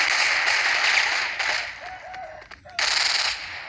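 Rapid gunfire from a mobile shooter game, PB Mobile, comes in two loud sustained bursts of shots separated by a brief quieter gap with a short tonal game sound, heard close through the game's audio.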